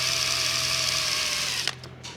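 An electric drill whirs steadily and loudly during tractor decal and brake repair, a continuous motor whine with a faint tonal hum that cuts off abruptly near the end, followed by a few short bursts of noise.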